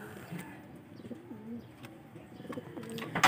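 Homing pigeons coo at a loft in Pagsanjan, Laguna, with soft throaty coos rising and falling over a faint background murmur.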